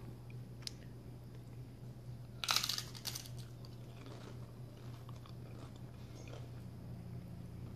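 Someone bites into a chip loaded with spicy queso blanco dip topped with diced tomatoes and green onion: one sharp crunch, then soft, faint chewing in a quiet room.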